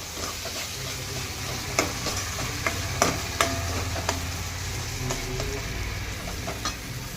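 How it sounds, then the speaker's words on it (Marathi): Soaked, washed dal is stirred in hot oil in a pan while cooking raw-tomato bhaji, giving a steady soft sizzle with a few clearer scrapes and clinks of the spoon against the pan. "आता ही डाळ टाकून देऊया ही डाळ परतवून घेऊ छान"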